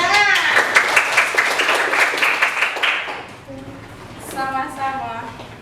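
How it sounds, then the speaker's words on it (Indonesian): Classroom pupils clap together for a classmate who read aloud in an Al-Qur'an Hadith lesson, a short burst of quick, close clapping that stops after about three seconds, followed by a teacher's voice. "Tepuk tangan."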